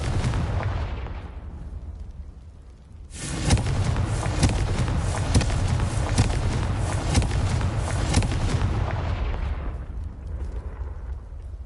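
Confringo blasting spells exploding in the video game Hogwarts Legacy during free roam: a low rumble, then a sudden loud burst of booming, crackling blasts that rolls on for several seconds before fading back to a quieter rumble.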